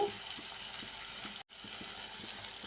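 Chopped onions and tomato fry in a pan with a steady, soft hiss, broken by faint rhythmic ticks of stirring and a brief drop to silence midway.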